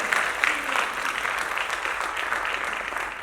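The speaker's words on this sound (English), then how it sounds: "please, big round of applause for everybody and the team" Festival audience applauding in a steady, dense wash of clapping that fills the whole stretch at an even level, with a faint crowd murmur beneath and no talk over it.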